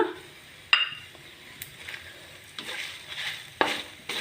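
Spices and cumin seeds roast in a dry pan for a curry leaf chili powder, giving a quiet, steady crackle with a few sharp clinks of a utensil against the pan.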